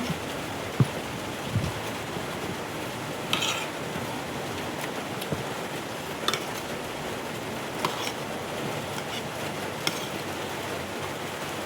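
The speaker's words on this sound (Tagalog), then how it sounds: "Ang lakas ng ulan." Heavy rain falls in a steady, dense hiss close by, with occasional louder drips and knocks rising above the downpour.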